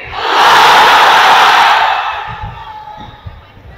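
A large crowd in a packed mahfil pandal in Rangpur roars a unison chant in reply to the takbir call, a loud, sustained massed shout that swells, holds, then fades into scattered murmurs.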